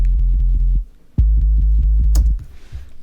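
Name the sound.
synth bass: sine wave with arpeggiator in Alchemy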